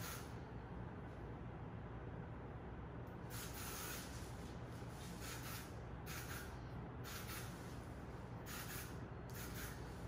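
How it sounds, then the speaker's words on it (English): Short hissing bursts from a spray bottle misting hair during a haircut, several quick spritzes in an irregular rhythm over a low background hum, fairly close. "Okay, so I'm gonna spray this."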